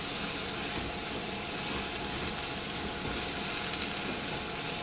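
Seafood and chicken stir fry sizzling in a cast iron wok over medium-high heat, a steady dense hiss that holds at an even loudness throughout, close up and with no talk.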